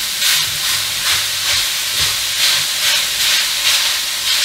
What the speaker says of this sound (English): I'm going to start off by frying the mince in the pan dry.